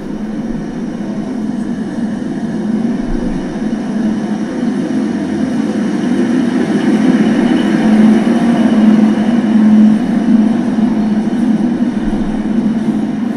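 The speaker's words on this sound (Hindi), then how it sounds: "देखिए आ चुकी है कश्मीरी लोकल ट्रेन।" A Kashmir local train on the Srinagar–Banihal line arrives at a platform, rumbling steadily at close range, a low continuous roar of wheels and carriages rolling along with no voices.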